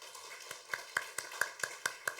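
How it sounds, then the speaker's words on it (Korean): Faint, steady clapping rises from a church congregation at a Sunday morning service as a visiting elder's family is welcomed, the claps landing in an even rhythm at a distance. "우리 이점희 장로님 가족이 또 오셨는데 우리 박수로 한번 환영하겠습니다"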